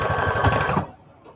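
A sewing machine runs steadily while stitching a zigzag line on lace attached to index cards, a close, even mechanical whir lasting under a second before stopping abruptly.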